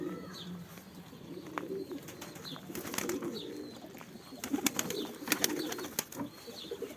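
A young Öntepe pigeon coos softly and repeatedly in a loft, joined by faint wing flutters and light clattering nearby.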